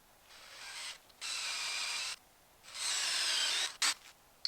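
A small drill bit bores into wood in three bursts of steady high-pitched whirring with short pauses between, fairly quiet, then a brief final spin.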